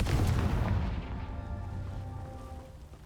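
A Confringo blasting spell explodes in the video game Hogwarts Legacy: one deep, booming blast at the start that rumbles and fades into a low, ringing tail, with no talk.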